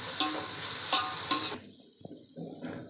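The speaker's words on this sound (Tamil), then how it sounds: "ஒரு 50 கிராம் அளவுக்கு பூண்டு மட்டும் போட்டுக்கலாம்" About 50 g of ground garlic frying with onions in a pan for Ambur biryani gives a steady, close sizzle with light stirring ticks. It cuts off abruptly, leaving faint scraping and clatter.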